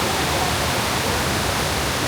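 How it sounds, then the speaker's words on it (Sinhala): Killen Falls waterfall near Byron Bay pours in a steady, broadband rush of water, close and constant with no voices over it. "මේක තමයි කිලන් ෆෝල්ස්."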